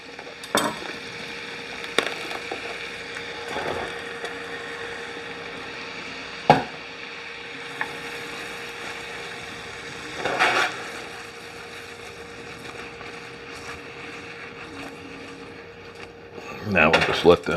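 Mushrooms frying in a pan with garlic and crushed red pepper, a steady close sizzle broken by a few sharp clacks of stirring and handling.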